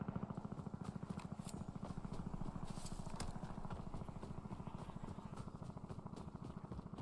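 Helicopter flying low overhead in the video game Warzone, a loud, steady rotor chop with rapid rhythmic thumping and engine whine that persists throughout.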